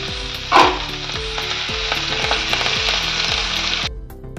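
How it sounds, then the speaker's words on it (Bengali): Carrots frying in hot white oil in a wok, a steady close sizzle throughout with a brief louder crackle near the start, then cutting off abruptly before the end. "প্রথমে গাজর দেবো, গাজরটা তো ভেজে নেবো।"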